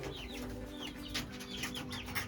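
Faint, high chirping peeps from young chicks in a coop, repeated in quick bursts over a low background hum.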